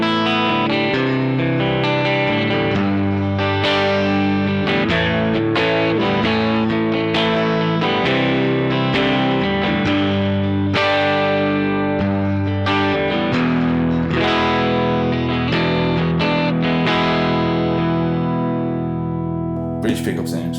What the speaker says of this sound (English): So I'll just go through the bridge pickup with different levels of intensity.